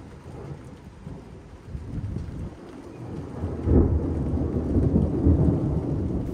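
A thunderstorm arrives after an arcus cloud, bringing wind gusts, heavy rain and hail. Continuous rain hiss and rumbling thunder swell louder partway through, with a sharp crack of thunder.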